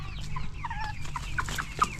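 Rhode Island Red chickens and chicks cluck and cheep in quick overlapping bursts, near and moderately loud, with a faint low hum underneath.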